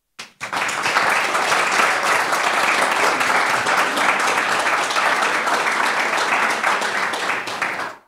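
Sustained applause from a conference audience fills the room, starting abruptly, holding steady and loud for several seconds, then tapering off at the end.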